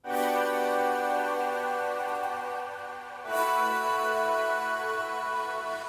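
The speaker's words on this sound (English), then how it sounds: "The last two chords are accentuated by a pad that comes in, which sounds like this" A sustained synth pad holds two long chords, with rich stacked harmonic tones, smooth and steady, the second chord entering midway with a slightly brighter swell.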